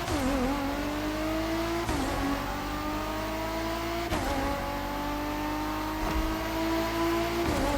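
Ford GT engine in The Crew Motorfest revving hard and continuously on a racing circuit, loud and close, with rising pitch sweeps that drop at each gear change roughly every two seconds.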